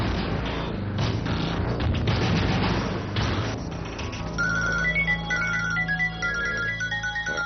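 A telephone rings repeatedly in a TV drama scene, its electronic ringtone pattern emerging midway after louder dramatic rumbling and music, with the ring continuing in a steady repeating rhythm.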